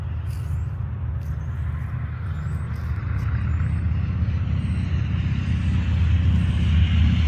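A fixed-wing airplane passes overhead in a backyard, its broad low roar steady and gradually swelling louder toward the end, with faint bird chirps above it and no talking.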